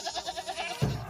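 Kathiawadi goats, a truckload of forty pregnant does, give short bleats in quick succession. A louder, rougher call cuts in at the end, close by and with no talking.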